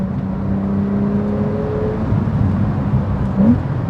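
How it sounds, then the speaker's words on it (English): A 2018 Porsche 911 Carrera S idles with a low, steady exhaust growl, then gives a short pop and burble near the end, close and fairly loud. "Ooh, little burbles."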